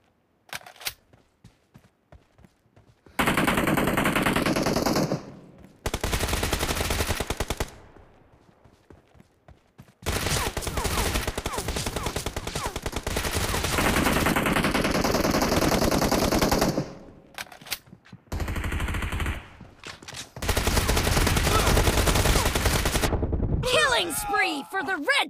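Gunfire in the BGMI video game: long, loud automatic bursts of rapid shots, several extended volleys separated by short pauses, with faint voices around them.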